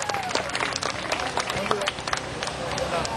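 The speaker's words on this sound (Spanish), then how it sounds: "fuerte aplauso para ese joven" Applause at a youth baseball award ceremony as a young pre-infantil league player is honored, a dense steady patter of many hands clapping with crowd murmur, sustained at even loudness throughout.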